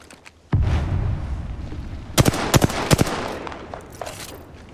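Video game gunfire erupts in bursts: a loud blast, then a rapid cluster of sharp shots, a few more cracks, and rumbling explosions fading under a lingering roar, with no talking.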